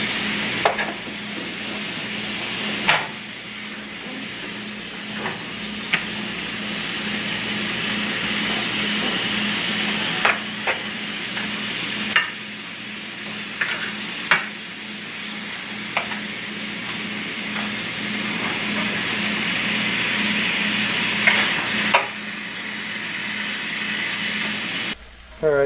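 Pieces of venison sear in a hot pan, a steady close sizzle and frying hiss running throughout, punctuated by sharp clicks and scrapes as the pieces are turned.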